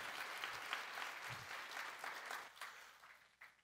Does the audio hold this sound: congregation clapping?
yes